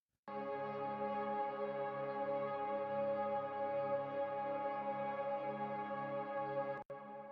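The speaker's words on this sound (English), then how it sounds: "Then we have this drone track" A steady synth drone from a guitar cover of a song holds two sustained notes without change, rich in harmonics, then cuts off abruptly near the end with a brief quieter tail.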